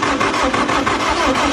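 An engine being cranked to start gives a loud, dense, continuous churning roar with a rapid rhythmic pulse throughout, close up and without any voices.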